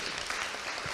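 Audience applause at a talk on resilience and economics: a dense, steady wash of clapping from a crowd, filling the whole brief moment without a break.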